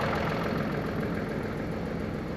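A steady, rough tractor engine drone runs continuously and close in winter, a low vibrating idle with no other sounds breaking through.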